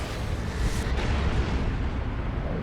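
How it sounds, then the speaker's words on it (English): A Leman Russ tank's Vanquisher cannon fires in the strategy game Dawn of War 2, a dense booming blast with a sharp crack near the middle over rumbling low-end battle noise, no voices. "That's the Vanquisher cannon."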